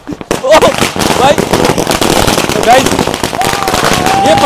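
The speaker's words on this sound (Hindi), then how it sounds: "अभी तक ये पटाखे खत्म नहीं हुए हैं" Rapid crackling bursts of firecrackers going off continuously during Diwali celebrations, loud and close, with someone talking excitedly over the barrage.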